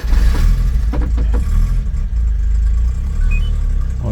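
The engine of a supercharged mini-truck starting outdoors: a loud, close mechanical churn with a few cranking clatters early on, then a steady running drone.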